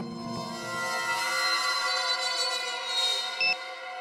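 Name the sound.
alarm clock ringing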